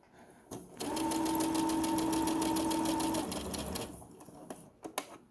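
A sewing machine stitches a tote bag seam, running in one continuous loud burst for about two and a half seconds with a steady rapid needle rhythm, followed by a few quiet clicks and handling sounds.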